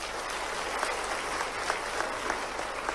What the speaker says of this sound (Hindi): जिनको पसंद है ताली वाली बजा के बताओ।